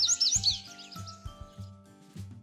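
Bright bird chirps and tweets flutter at the start of a Cinderella children's story, laid over gentle, steady background music with low notes that keep pulsing.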